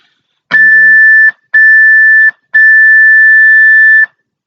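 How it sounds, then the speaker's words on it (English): Three steady electronic beeps, a short one, another short one, then a longer tone, loud and shrill with brief gaps, over a faint voice at the start. "I'm glad that stopped beeping after that"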